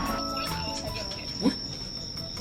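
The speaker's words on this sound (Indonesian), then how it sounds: "Itu jangkrik pengen banget kawin tuh ya." Crickets chirp in a steady, high-pitched drone, joined by faint murmuring voices and a brief soft knock.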